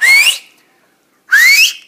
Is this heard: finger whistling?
yes